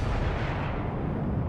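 Heavy battleship guns in World of Warships, a deep booming rumble that stays dense and low for a brief moment, loud and close.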